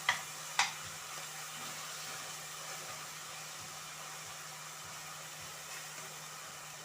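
Chicken for a homemade chicken pizza fries in a pan with a steady, soft sizzle, broken near the start by two sharp clinks.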